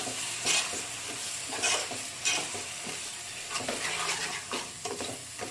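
Fish curry being stirred in a pan, a spoon scraping in repeated strokes every second or so over a steady low sizzle, close and fairly quiet, with no talking.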